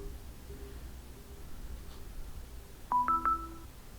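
Foley phone dialing tones added to a short film come as three quick, clean keypad beeps in a row, faint against a low room hum.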